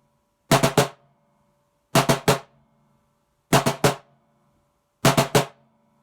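Percussion sticking on a practice pad with the left-hand strokes placed too far apart: four clusters of three sharp dry taps, unevenly spaced within each group, repeating about every one and a half seconds, close and alone.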